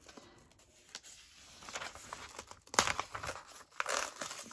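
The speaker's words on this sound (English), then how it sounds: "I'm going to rip all of those out" Glued pages ripped out of a book, close crinkling and tearing paper with a few sharp rips and rustles, fairly quiet and without talking.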